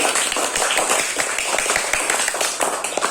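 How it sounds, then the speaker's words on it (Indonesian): A classroom of students applauds a group that has just finished its presentation, with dense, steady clapping filling the room near and throughout. "Sekali lagi beri tepuk tangan anak-anak"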